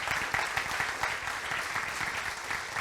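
A church congregation applauds during a Portuguese-language service, steady dense clapping from a crowd filling the whole moment at moderate level.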